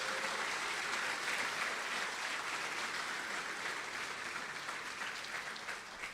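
Steady round of applause from an audience at the 12th Annual Frosty Awards ceremony, a broad even clapping that holds throughout and slowly tapers a little toward the end.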